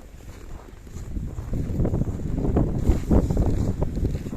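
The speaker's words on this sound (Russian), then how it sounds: "ну так ветер такой довольно хороший, порывы вообще сильные" Strong, gusty wind in an Arctic blizzard at Labytnangi in the Far North roars steadily across the microphone, building in force and surging in a few sharper gusts.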